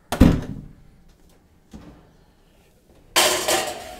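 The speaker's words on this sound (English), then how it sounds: "Got to close the door." An oven door in a home kitchen shuts with a sharp thunk, followed by a softer knock and then a louder clattering rush, close by with no talking.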